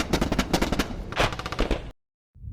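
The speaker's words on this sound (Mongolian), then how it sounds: "энэ үед агаарын тулалдаанд үргэлжилсээр л байлаа" Rapid bursts of machine-gun fire rattle through an animated air battle, dense overlapping volleys for about two seconds before a sudden cut to silence and a brief return.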